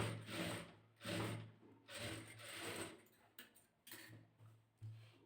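Top stitching on a blouse, a sewing machine whirs in a series of short, repeated runs with a ticking mechanical rhythm, fairly quiet and with no voices.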